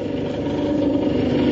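A potter's wheel slows while shaping a clay plate, giving a steady, fairly loud motor hum with a continuous mid-range drone and no speech.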